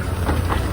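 A train hauled by the engine Peter Sam runs along the rails, a brief, loud, steady low rumble with no separate clacks.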